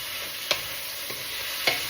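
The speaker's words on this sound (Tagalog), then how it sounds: "So, nagluluto ako." Vegetables with meat cook in a pan, giving a steady close sizzle with two sharp utensil clicks against the pan, no voices.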